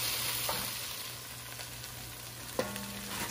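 Floured steak fries in a pan for beef stroganoff, giving a steady close sizzle with a sharp utensil clank near the end.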